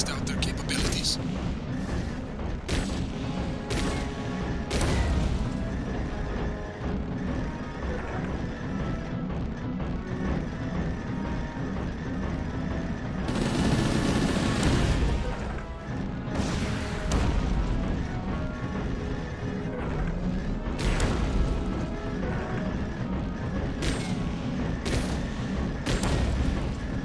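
Mech weapons fire and explode in the Chromehounds video game, rapid bursts and sharp blasts recurring across the stretch with heavy booms, while a narrator talks over the action.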